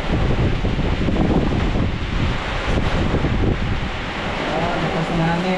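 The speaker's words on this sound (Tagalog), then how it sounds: "Lakas ng hangin. Nasahan ng hangin guys." Strong typhoon wind roars continuously and loudly, a dense buffeting rush that fills the whole stretch without pause.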